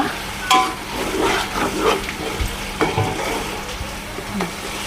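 Pulao ingredients are stirred in a frying pan over village-style cooking heat, giving a steady close sizzle broken by scraping and clattering strokes of the spoon every second or so.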